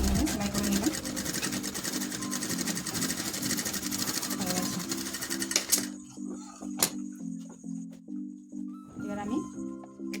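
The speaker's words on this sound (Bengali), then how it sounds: "পুরোটা এইভাবে সেলাই করে নিলাম।" Electric sewing machine running steadily as it stitches a ruffled pillow cover, a dense mechanical whir for about six seconds, then short start-stop bursts of stitching with pauses; close and fairly loud.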